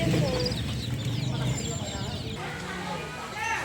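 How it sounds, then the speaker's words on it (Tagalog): Poultry squawk and cluck at a busy Sunday outdoor market in Bauang, La Union, with bird calls scattered over crowd chatter while a person talks nearby. "Opo, itik po yan po."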